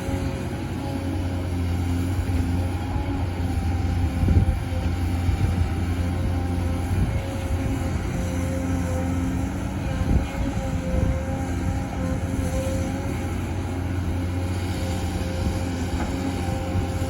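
An XCMG excavator with a four-cylinder direct-injection diesel engine runs steadily, a low droning rumble with tonal hum that swells briefly as it works, alone without talk.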